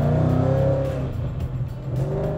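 A Ford Mustang GT engine making over 940 rear-wheel horsepower revs loudly and steadily close by, its rumbling drone rising and falling slightly over a couple of seconds.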